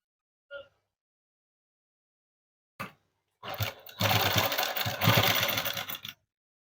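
An electric sewing machine runs stitches into a dress in two loud bursts, a short start then a steady whirring run of about two seconds, preceded by a few faint clicks.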